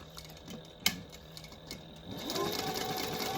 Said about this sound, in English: we're going to sew all the way around that rectangle